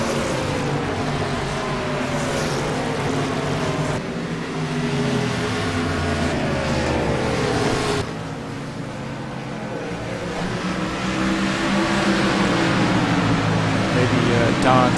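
Don Killebrew's race car laps a short-track oval at a Saturday night race, its engine droning and rising and falling in pitch as cars pass, under a commentator's talk.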